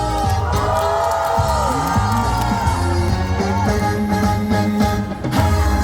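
A large audience at a concert venue cheers and whoops loudly and continuously, with shrill shouts and scattered clapping in a dense, close wash of crowd noise.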